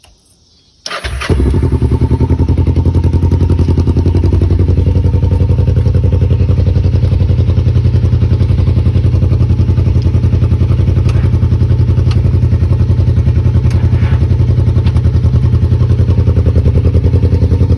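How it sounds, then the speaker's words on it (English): A loud motorcycle engine catches at about a second in and then runs steadily for the rest of the clip, a close, continuous rumble with a rapid low-pitched beat, while it jump-starts a Ranger RZR utility vehicle. "we're jumping this off my motorcycle, and my motorcycle's loud"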